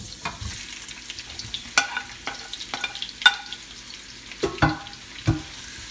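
Onions frying in vegetable oil crackle and sizzle close by, punctuated by irregular scraping stirs and taps in the pan, no voices.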